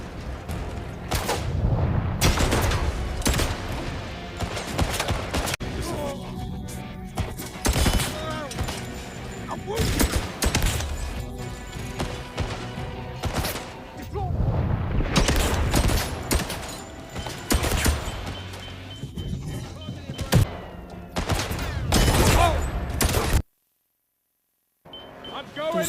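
Gunfire from the video game 007 First Light: near-constant dense bursts of shots, thumps and explosions over a driving game soundtrack, with loud impacts scattered throughout and a brief dropout near the end.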